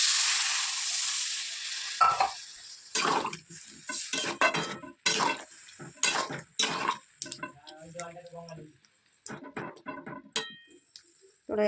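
Water is poured into a kadai where panch phoron was fried in about half a spoon of oil for shukto, bringing a loud hissing sizzle at first, then intermittent sputters and pan clatter while a voice talks.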